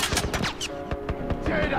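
Rapid bursts of gunfire from The Last Of Us video game, several sharp shots in quick succession over a dense, continuous background.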